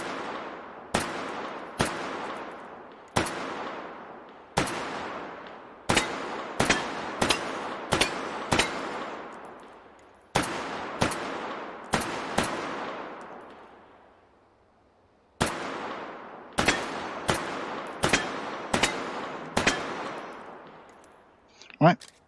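Pistol shots in the VR shooter Hot Dogs, Horseshoes & Hand Grenades ring out as single loud cracks with ringing tails, spaced irregularly in bursts with a pause mid-sequence, mostly alone with faint handling clicks.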